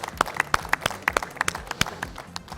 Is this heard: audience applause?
yes